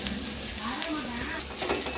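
Grated coconut for coconut burfi stirred in a hot pan, a continuous soft sizzle with a spoon scraping through it. A voice murmurs faintly underneath.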